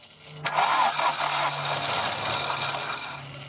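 A manual Audi A-series car engine that had stood unused for a long time turns over and catches about half a second in, then runs on in a steady, close rumble.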